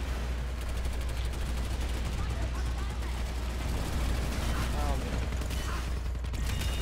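Rapid automatic gunfire in the sci-fi shooter Planetside 2, a dense continuous rattle of shots with mechanical clicks under a constant low rumble, with a voice talking over it.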